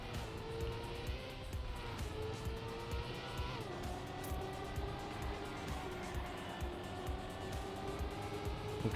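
Race car engine in the Trackmania video game, a steady loud whine with shifting pitch as the car drifts through turns at full speed, running continuously throughout.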